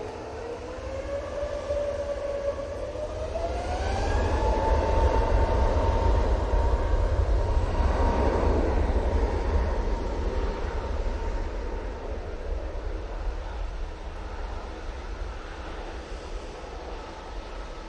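A bright orange airliner takes off from Manchester bound for Corfu, its engines roaring loud and close with a rising whine that climbs in pitch and swells to a peak before easing slightly as it departs.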